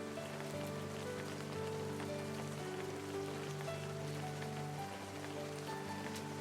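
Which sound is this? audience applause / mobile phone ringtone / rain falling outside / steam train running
rain falling outside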